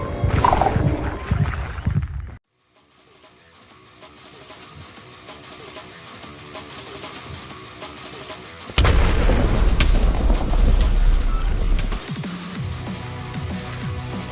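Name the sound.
Wither summoning explosion in video game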